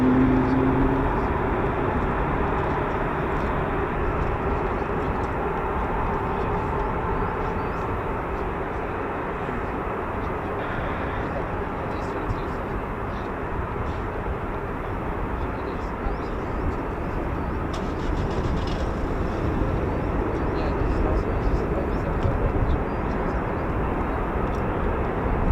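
US Air Force F-22 Raptor fighter jets of the 48th Fighter Wing take off from an RAF base, making a loud, steady roar that fills about 25 seconds with no break and no talking.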